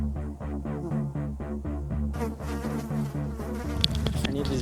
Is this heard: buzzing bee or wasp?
yes